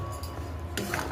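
A spoon scrapes and clinks against a pan as fried gavvalu are stirred into jaggery syrup, a few soft metallic knocks close by, quiet and brief.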